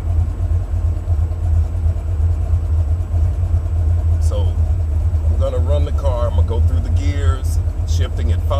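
A Buick 455 Stage-1 engine in a Regal-T idles with a deep, steady rumble throughout, while people talk over it in the second half.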